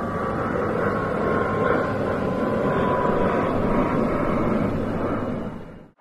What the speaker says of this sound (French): Il y a un avion qui passe.